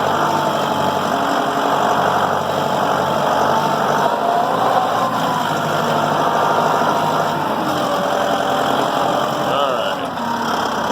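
A Massey Ferguson 2705e tractor engine drives steadily in third gear on a property, a loud continuous drone with some mechanical vibration, recorded up close without pauses.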